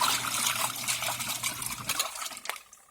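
A twin tub washing machine on its rinse cycle, with water churning and sloshing close by, steady at first and then thinning into scattered splashes and light knocks.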